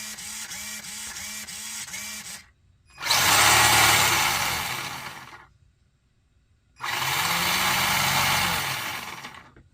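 A vintage Traxxas Bandit RC car's steering servo whirs in two loud, sustained bursts of a few seconds each, separated by a short silence and preceded by quieter rhythmic mechanical ticking.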